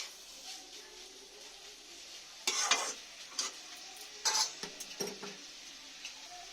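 Egg is stirred into fried snake gourd in a pan, giving a quiet background sizzle with several sharp scraping bursts from the spatula mixing the ingredients.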